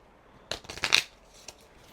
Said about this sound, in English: 5 TBR cards. Shuffling.